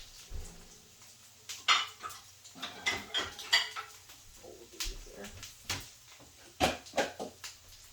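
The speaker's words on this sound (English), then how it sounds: "what I'm going to do is I'm going to get another bowl" Bowls and dishes handled in a kitchen while making cauliflower crab cakes, a run of close clinks, knocks and cutlery rattles in irregular bursts, no talking.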